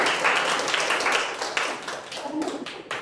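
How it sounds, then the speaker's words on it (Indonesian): A classroom group claps together in a dense, steady burst of applause lasting a few seconds, fairly close, with faint voices mixed in. "Teman-teman tepuk tangan dulu sekali."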